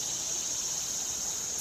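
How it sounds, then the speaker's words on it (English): Cicadas singing in the trees, a steady high buzzing drone that fills the whole moment without a break, loud and unbroken, with no voices. "cicadas that are singing in the trees"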